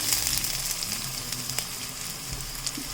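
Sliced ginger hits hot oil in a frying pan while pepper chicken is being cooked, giving a steady, close, bright sizzle and crackle that holds evenly throughout with no one talking.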